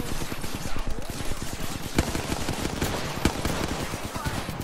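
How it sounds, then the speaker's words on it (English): Gunfire in a video game comes as dense rapid bursts of shots, loud and continuous across the whole stretch, with a few sharper individual cracks standing out. "I'm being shot at."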